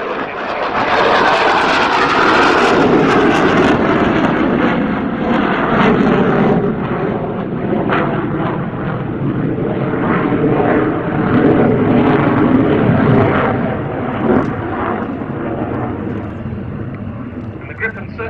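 A Saab Gripen fighter jet flies a display at an airshow, its engine a loud continuous roar that swells and fades as it passes, under steady commentary over a loudspeaker.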